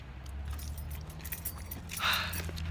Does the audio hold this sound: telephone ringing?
no